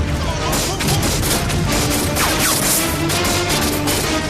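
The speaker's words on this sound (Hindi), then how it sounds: "Just give me cover fire, okay?" Gunfire in a film firefight, dense bursts of shots and crashing impacts rolling on continuously and loudly with no break.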